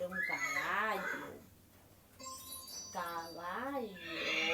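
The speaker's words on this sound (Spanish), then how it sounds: "Ah, era un caballo." A horse neighs twice, each loud whinny rising and falling, with a quiet pause and a brief faint chime between them.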